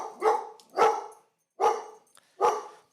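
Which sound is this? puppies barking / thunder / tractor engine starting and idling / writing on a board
puppies barking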